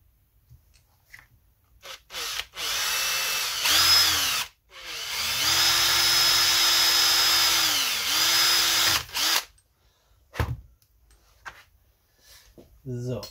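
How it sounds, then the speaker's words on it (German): A power drill bores a small hole into the housing of a Stihl MS180 chainsaw, whirring in several close bursts of rising and steady whine with pauses and handling clatter between, and someone speaks briefly. "das heißt Löchschen bohren."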